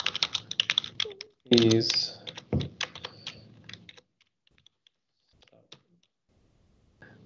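Code is typed on a computer keyboard in quick bursts of clicking keystrokes, close and crisp, with a short spoken word in the middle. Scattered taps trail off into near silence.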